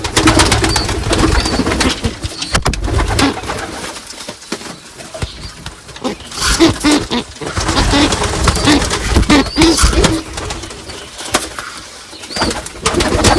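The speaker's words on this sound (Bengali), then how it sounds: "আর কবুতরগুলোকে একটু খাবারটা দিয়ে দিই" Pigeons cooing softly amid a noisy, rustling background, with repeated low coos scattered across the clip and occasional wing flutters.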